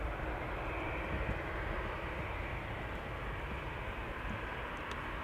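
Transavia airliner taking off from Schiphol's Polderbaan, a steady, broad jet engine roar held throughout at moderate distance, without voices.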